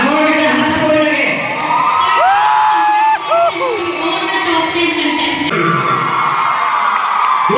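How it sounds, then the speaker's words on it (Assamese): A large crowd at a college annual function cheers, whoops and claps for the top ten Miss Borgaon 2023 pageant contestants, loud and continuous, with a voice speaking over a loudspeaker through the noise. "ডাঙৰ এটা হাত চাপৰি লাগে"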